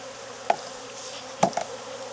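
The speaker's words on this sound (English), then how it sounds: "Good looking number of bees down here." Honey bees hum steadily around a Demaree-split hive in Jacksonville, Florida, a close, soft drone with a couple of sharp knocks of hive equipment.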